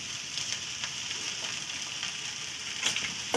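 Noodles frying in a pan as vinegar is splashed in, a steady quiet sizzle with a few sharper crackles and a brief louder hiss near the end, no talking.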